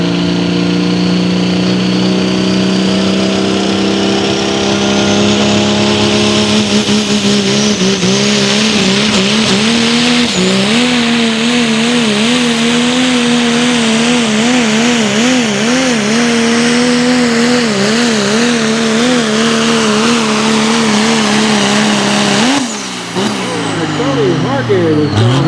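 A Dodge four-wheel-drive pulling truck from Alamo, Tennessee roars loud and close at a Hillsboro, Tennessee truck pull, its engine revving and wavering steadily for over twenty seconds before a brief dip and surge.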